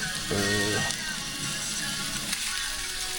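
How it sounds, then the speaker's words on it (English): Chicken and onions sizzle on a cooking surface at a hunting camp, a soft steady frying hiss under brief background voices and clinking. "we got food cooking, we got chicken"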